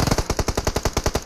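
M762 rifle firing one sustained spray in a video game, about a dozen rapid evenly spaced loud shots in under a second and a half, with no voices.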